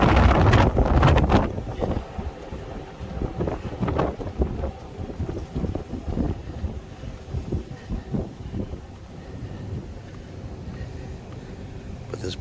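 Gusty wind on a cruise ship's open deck buffets the microphone in loud low rumbles, strongest at the start, with occasional voices talking underneath.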